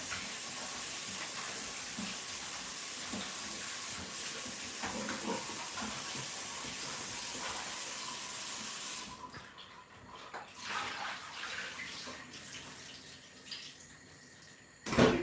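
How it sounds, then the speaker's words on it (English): Tap water runs to rinse raw lamb shanks in a home kitchen: a steady soft hiss of flowing water for several seconds, then splashing and handling noises as the meat is rinsed. "So now we're just going to add some water for you to rinse it off now."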